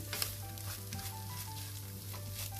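Steady sizzling in a pan with soft scraping as a spoon stirs a bulgur and tomato sauce mixture, a low hum running underneath throughout.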